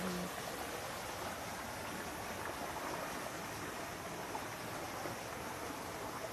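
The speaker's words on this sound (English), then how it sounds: "So this is the tidal waterfall." Flowing water at a tidal waterfall in a Florida state park makes a steady, dense rushing wash, constant and unbroken from start to finish, like a stream pouring over a drop.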